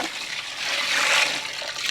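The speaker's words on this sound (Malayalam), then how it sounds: "ഒപ്പം നമുക്കൊരു വെള്ളം ഒഴിച്ചിട്ട് അത് വേവിച്ചെടുക്കാവേ" Water pours onto chopped vegetables in a pot for vegetable biryani, a short continuous rushing splash heard close and fairly loud, swelling slightly midway.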